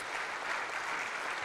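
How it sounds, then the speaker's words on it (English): Audience applause for the CEO of Porter Airlines at a mayor's breakfast, a steady dense wash of clapping filling the room for the whole moment, loud and continuous with no voices over it. "So another round of applause, please, for the CEO of Porter Airlines."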